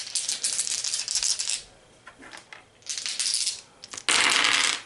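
Dice rattle and clatter in bursts during a board game, tumbling and settling on a hard surface, several close rolls with brief pauses between them and no talking.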